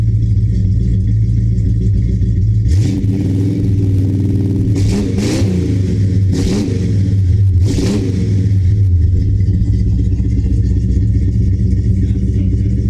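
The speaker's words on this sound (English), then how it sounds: "It sounds like a true big block Mopar now." A 1970 Dodge Charger's big-block V8 idles with a deep, throaty Flowmaster American Thunder exhaust, then blips the throttle in four sharp, loud revs before settling back to a rumbling idle.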